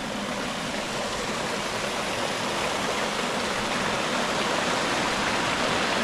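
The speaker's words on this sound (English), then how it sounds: "I found this waterfall and it's absolutely astounding" Small waterfall in an old lead-mining area of the Peak District, its water dropping away underground, giving a steady, loud broadband rush and splash that holds even from start to end with no voices.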